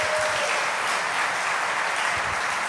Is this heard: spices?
no